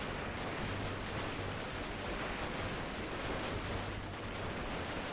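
Steady, dense gunfire from the player's assault rifle in the PC game Freeman: Guerrilla Warfare, a loud continuous barrage of overlapping shots and blasts with no pauses.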